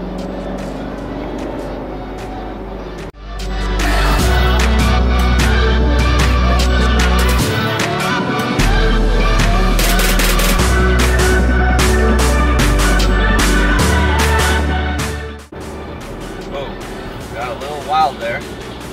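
A Maserati GranTurismo MC engine roars loudly as it accelerates hard. The revs climb and drop in distinct steps through several gear changes over roughly twelve seconds, then settle back to a quieter idle-like rumble.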